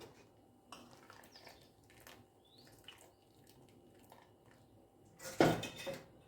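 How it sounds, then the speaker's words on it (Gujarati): Boiled potato wafer slices tipped out into a strainer in a home kitchen: quiet clinks and scrapes of utensils, a few faint drips, then one louder metallic clatter near the end. "આવી રીતે એક સાયણીમાં કાઢી લેશું."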